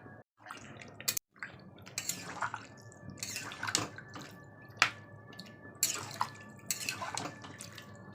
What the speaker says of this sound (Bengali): তো আমি এবার এতে জল অ্যাড দিচ্ছি।